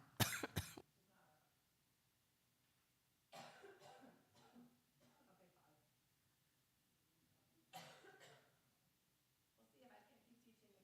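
A person coughs in a sharp burst right at the start, with further coughs or throat clearing a few seconds later, close and fairly loud against a quiet room during a Shabbat worship service.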